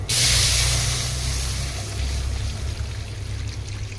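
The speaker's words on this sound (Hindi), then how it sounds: "हम पानी देदा" Water is poured into a hot pan of Maggi masala, starting with a loud hissing rush that settles into a steady, softer bubbling sizzle over a low hum, heard up close.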